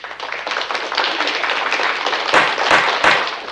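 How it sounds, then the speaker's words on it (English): A round of applause on a podcast, a dense steady clapping texture lasting a few seconds with a few sharper bursts near the end, fairly loud and without talk. "Let me get a round of applause."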